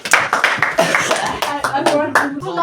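Classroom clapping for a student, a cluster of close, uneven hand claps in quick bursts with voices mixed in underneath.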